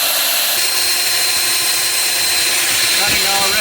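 A line boring bar cuts through an engine block on auto feed, producing a loud, continuous whining machining drone with a steady high-pitched edge.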